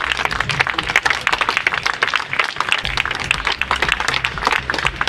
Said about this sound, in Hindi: तालियों की गूंज को कम न होने दें